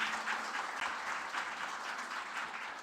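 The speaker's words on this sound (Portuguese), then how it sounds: "Palmas, por favor." A seminar audience applauds a band, a steady roomful of clapping hands holding at an even level for a few seconds, with no talk over it.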